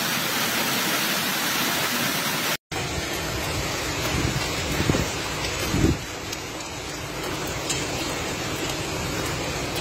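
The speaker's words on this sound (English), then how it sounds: "A violent hailstorm hit this morning, February 14th, on Gagliano del Capo, in the Lecce area" Violent hailstorm pounding Gagliano del Capo in the Lecce area of Salento, Italy: a dense, continuous hiss and roar of hailstones striking surfaces, broken by a brief dropout and a couple of heavier thuds.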